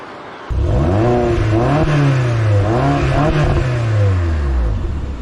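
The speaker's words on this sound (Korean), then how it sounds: "엔진 시동은 한번 보여드리겠습니다" A used car's engine with a stock muffler catches after a half-second of low rumble, then revs up and down in several rising and falling surges, loud and close, with no talking.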